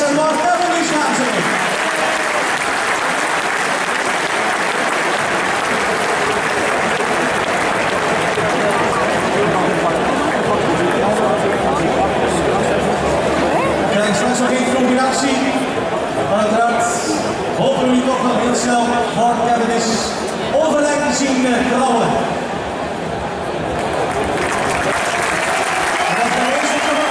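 A large crowd at the Six Days of Ghent velodrome applauds continuously, a dense loud wash of clapping and cheering that holds steady throughout, with a commentator's voice talking over it.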